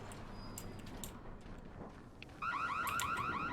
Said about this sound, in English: Also, I believe that's a security alarm in there.